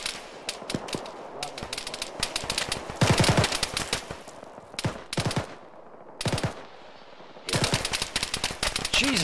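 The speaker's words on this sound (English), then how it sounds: "Bravo, they're shooting at us." Rapid bursts of automatic gunfire and single shots from the Arma military shooter (ShackTac multiplayer), loud and close, coming in dense clusters with short pauses between them, with radio-style voices talking between the volleys.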